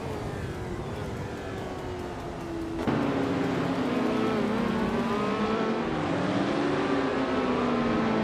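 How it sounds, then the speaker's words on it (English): A 1966 McLaren M10A race car engine in a racing game drones steadily at high revs, its pitch sliding and shifting as it holds speed, loud and continuous with a brief gear-like step partway through. "Axton Hitz is racing a 1966 McLaren M10A."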